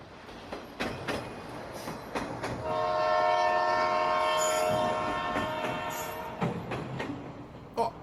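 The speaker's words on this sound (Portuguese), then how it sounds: "É o sinal do trem" A passing train in Itapeva sounds a long, loud horn blast over the rumble and clatter of rail cars, the signal holding for several seconds in the middle of the approach.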